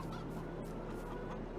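Chickens in Farming Simulator 22 on the Western Wilds map give a quick run of throaty, honking clucks, close and steady with no voices over them.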